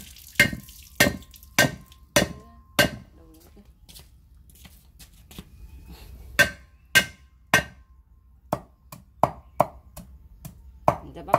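A cleaver chops fish in half on a board for a Vietnamese galangal fish dish, sharp loud close thwacks in irregular bursts, a quick run of blows, then a pause, then another faster series, with faint voices in the background.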